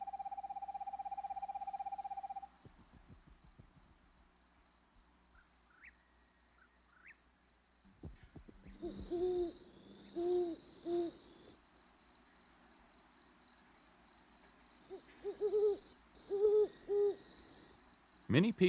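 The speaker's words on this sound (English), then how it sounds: "Many people have heard an owl hooting," An owl hoots at night in a woodland setting, two bursts of several low, even hoots each, fairly close over a quiet background with a faint steady high tone.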